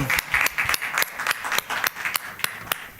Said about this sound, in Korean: 우리 다시 한번 우리 하나님께 영광의 박수 올립시다